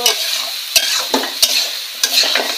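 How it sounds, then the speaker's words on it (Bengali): Spices sizzle and fry in a pan for a fish and green plantain curry with hilsa, with steady hiss broken by a few sharp stirring scrapes, close and fairly loud, no talking. "মাছ তো প্রথমে ভেজে নেওয়া হয়েছে, আর এখন তো মশলা কষানো হচ্ছে।"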